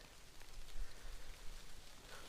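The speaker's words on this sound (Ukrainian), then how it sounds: "Дощ іде, іде все время." Rain falls on a fishing boat out on the water, a soft, faint patter with scattered drops and light gusty swells, no voices heard.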